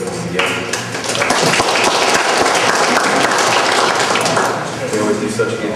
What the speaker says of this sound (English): First of all, Tracy and Joyce, I think you owe them a round of applause too for putting this together.